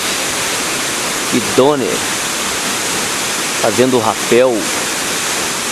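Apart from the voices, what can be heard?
Cachoeira de Santo Antônio waterfall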